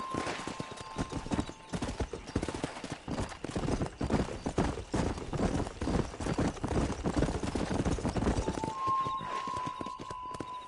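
Horses gallop in the Red Dead Redemption video game, with a dense, rapid clip-clop of hooves that runs continuously at close range and a brief whinny near the end.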